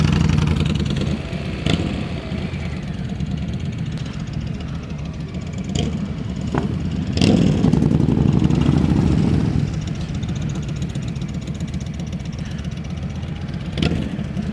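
Motorcycle engines idle and rumble steadily along a seafront at Great Yarmouth during a motorcycle takeover event, with a few brief revs rising above the continuous low drone.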